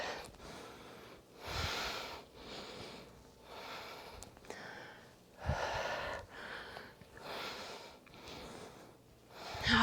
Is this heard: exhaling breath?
yes